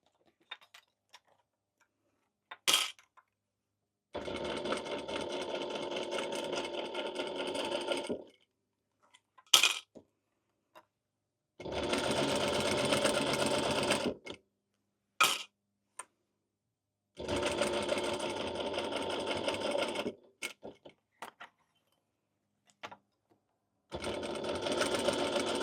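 Sewing machine stitching a fabric Halloween pennant banner in four separate bursts of fast, steady running, each several seconds long, with sharp clicks and quiet pauses between them, close and without talk.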